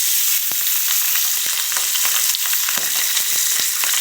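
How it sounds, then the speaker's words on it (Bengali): Whole pabda fish frying in hot, spluttering oil, a loud dense continuous sizzle dotted with sharp pops and crackles, close up with no talk. "দেখো তেল ফুটে একেবারে ডাকা হয়, প্রচণ্ড তেল ফোটে"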